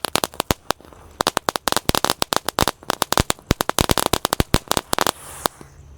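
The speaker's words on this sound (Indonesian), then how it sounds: "Di sini ada mercon tank." A tank firecracker goes off in a rapid, irregular string of loud, sharp cracks and pops at close range, lasting several seconds before it fizzles out.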